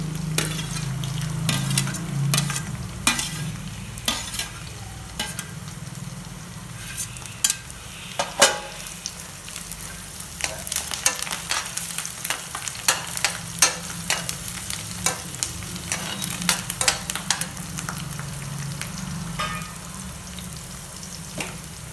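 Onions and carrots sauté with salt for vegetable kurma, a continuous sizzle broken by frequent sharp spatula scrapes and clacks against the pan, close and busy throughout.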